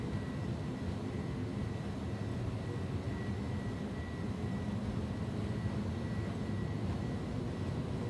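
Jet engines of an IniBuilds A300 airliner in X-Plane 11 roar steadily at takeoff power during the takeoff roll, a dense, constant rumble with a faint high whine running unbroken throughout.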